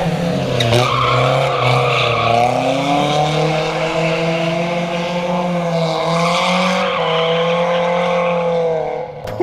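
A Lamborghini drifts on a track, its tires letting out one long, loud, wavering squeal that holds for about nine seconds with the engine droning beneath.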